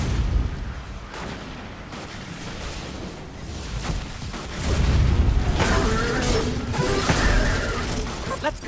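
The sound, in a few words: bombs and missiles exploding in video game Destiny 2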